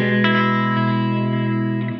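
An electric guitar run through an ART SGE multi-effects rack processor on its Chicken Pluck preset rings out as a sustained, distorted chord with a chorus-like shimmer and reverb, with a few faint pick attacks over the steady tone.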